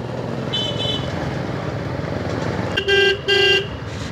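A vehicle horn toots twice in quick succession, loud and close, on a busy road in Siliguri, heard over steady wind and traffic rumble from a helmet-mounted microphone, with a fainter earlier honk.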